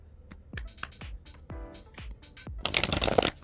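An oracle card deck being shuffled close up, a run of crisp riffling flicks and taps that builds into a dense, louder burst of shuffling at the end, with no voices.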